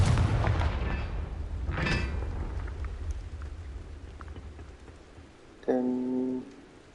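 A Confringo explosive spell in Hogwarts Legacy on PS5 detonates with a rumbling, thunder-like boom that fades into a rain-like hiss, followed by a brief ringing magical tone.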